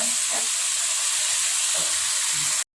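A spice paste hisses and sizzles steadily in a pan, with a few faint stirring scrapes, before the sound cuts off abruptly at the end.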